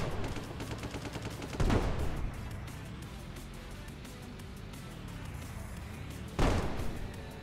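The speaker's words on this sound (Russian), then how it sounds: "Зачем ты стреляешь вообще, я не понял." Tank cannon fire in the Brick Rigs video game, with two sharp, loud blasts several seconds apart over a steady rumbling engine and battle din.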